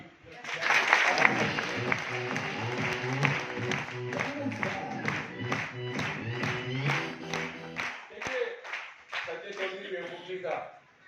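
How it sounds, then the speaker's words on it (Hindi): An audience at a seminar claps in steady rhythmic bursts, loud and near, while voices talk over the clapping; it breaks off briefly near the end before resuming more sparsely. "बजाओ ताली।"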